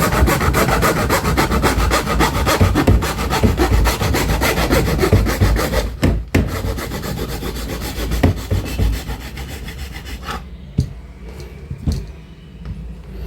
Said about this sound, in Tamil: இதை நம்ம நார்மல் இதை வச்சு கட் பண்ணி பார்க்கலாம்